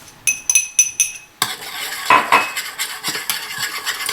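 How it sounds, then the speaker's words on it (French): A homemade after-sun cream mixture is stirred in a container: a few sharp metallic clinks of the utensil tapping the rim, then a continuous scraping, swishing stir close by. "Hop, je verse dedans et je mélange"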